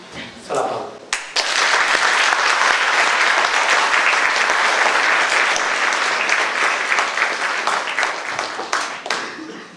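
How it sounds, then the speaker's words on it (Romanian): An academic audience at a Romanian university honorary doctorate ceremony applauds loudly and steadily for nearly ten seconds after a brief pause, the dense clapping swelling quickly and tapering slightly near the end. "Să-l aplaud."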